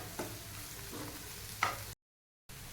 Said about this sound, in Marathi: हे दोन मिनटं आपण तेलामध्ये छान परतून घेऊयात